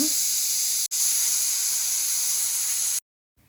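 A pressure cooker on a stove boiling eggs releases steam in a loud continuous hiss, briefly cut off once, then abruptly stopping near the end.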